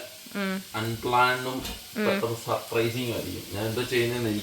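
Small shallots sizzle in hot oil after mustard seeds while an egg curry is cooked, a steady close hiss running beneath nearly continuous conversation.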